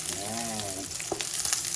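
Onion and garlic frying in hot oil in a pan, a steady close sizzle throughout with a brief low tonal sound near the start.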